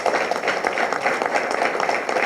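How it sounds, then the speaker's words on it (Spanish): Sustained crowd applause at a formal closing ceremony in Mexico, a dense, steady wash of many hands clapping at even loudness with no voices. "Le pido nuevamente un aplauso a todos los compañeros y compañeras de Puebla que están viendo."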